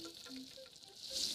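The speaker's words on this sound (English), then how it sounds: "We're frying it!" Chicken sizzling as it fries in oil in an animated cooking scene, a short steady crackle with brief tonal accents over it, moderately faint.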